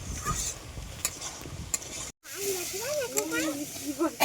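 Small river crabs and Malabar spinach curry are sautéed in a pan with a steady hiss and stirring scrapes. After a brief gap, a voice talks over the sizzle.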